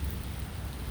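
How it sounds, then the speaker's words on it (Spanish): Steady rain falls outdoors during an ongoing storm, a faint, continuous hiss of drops lasting about a second with no other sounds. "Ya lleva desde anoche lloviendo"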